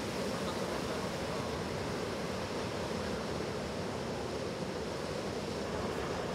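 Rough ocean surf during a university surfing competition quarterfinal in poor conditions, a steady, dense wash of breaking waves with wind rush, continuous and fairly loud with no voices.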